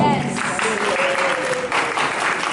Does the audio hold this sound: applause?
yes